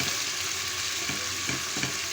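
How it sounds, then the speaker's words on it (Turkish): Steady sizzling of onions sautéing in a hot pan, a continuous crackling hiss with occasional stirring scrapes. "kavruyoruz soğanla, soğanları kavruyoruz"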